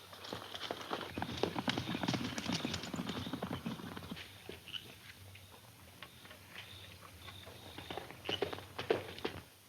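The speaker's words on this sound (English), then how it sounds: "I'll grab the first horse I can find and follow him." Horse hooves gallop in a black-and-white western TV serial, a rapid clatter of clip-clop hoofbeats, dense and close at first, then lighter and more scattered.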